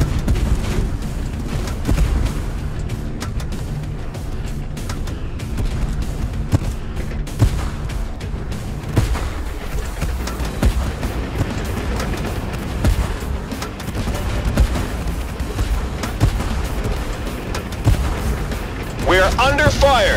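Artillery booms and gunfire fill a Tank Force tank battle game, dense bursts of shots and blasts cracking in steady succession, with shouted voices under the din.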